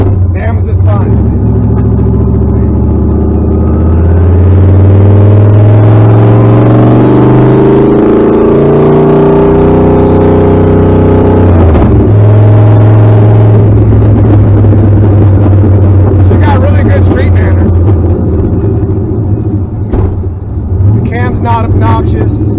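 A turbocharged 1990 Ford Mustang making about 700 horsepower, driven on a street, accelerates with a loud engine drone that climbs in pitch through the gears, heard from inside the car with a voice talking over it.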